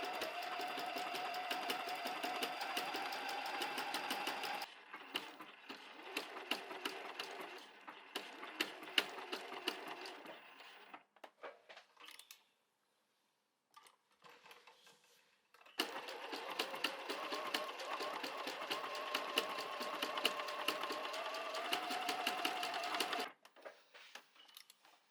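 A sewing machine stitches a fabric bag built from 3.5 cm wide strips, running in two long steady bursts separated by short stops and a near-silent pause, close and alone with no talk.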